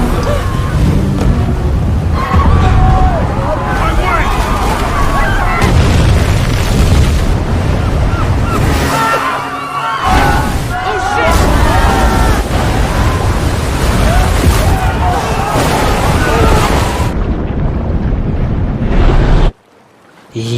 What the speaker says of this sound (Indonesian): ledakan pun terjadi di mana-mana yang membuat semua kacau